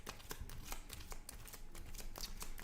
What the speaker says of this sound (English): We will shuffle it up.